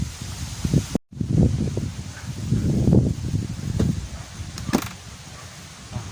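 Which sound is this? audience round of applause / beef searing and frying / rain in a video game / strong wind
strong wind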